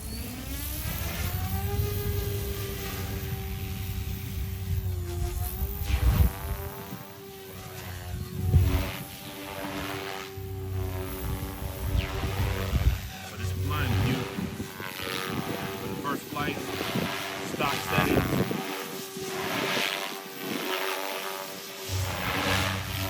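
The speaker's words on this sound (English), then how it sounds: "I'm gonna bring up the head speed just a tad in this mode here. Let's see. Motor on." The motor of a Goosky RS4 RC helicopter whines as it spins up, with rising, shifting rotor and motor tones close by, loud, and a person talking over it at times.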